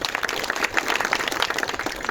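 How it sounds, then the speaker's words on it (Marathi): An audience at a public library inauguration ceremony in a village claps in a dense, continuous burst of applause that holds steady throughout the short stretch. "तुकारामजी वालेकर यांच्यासाठी जोरदार टाळ्या वाजवा"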